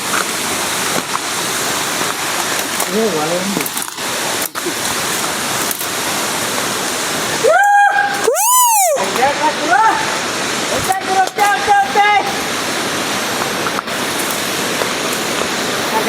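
A hidden waterfall roars steadily as a loud, broadband wash of falling water, with brief whistle-like tones and voices cutting through partway.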